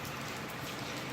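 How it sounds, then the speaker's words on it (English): Steady rain pours outside a car near a bowling spot, a dense, even hiss of drops heard alone and fairly faint. "hopefully you guys can tell it's raining out there."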